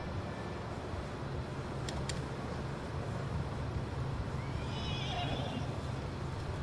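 Horse neighing with hoofbeats in the video game Red Dead Redemption 2, a whinny rising faintly over a steady low rumble of riding and ambient noise, with a brief sharp knock early on.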